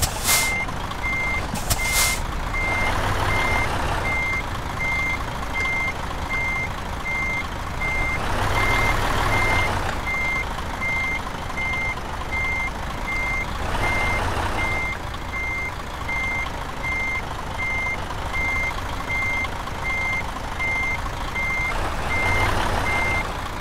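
Repeated electronic reversing beeps from a truck in the Euro Truck Simulator 2 driving game, a steady evenly spaced pulse over a continuous engine rumble with occasional hiss surges, no talking.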